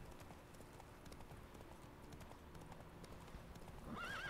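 Roach, the horse in The Witcher video game, trots with a steady, even clip-clop of hooves at moderate volume, and a whinny sounds near the end.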